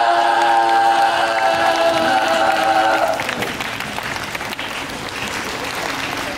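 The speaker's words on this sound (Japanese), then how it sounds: "こっちの端から向こうに向かって拍手ウェーブ開始。" A theme park show audience at Universal Studios Japan claps in a wave, with clapping spreading across the crowd under a held musical chord that cuts off midway, after which scattered applause continues at moderate level.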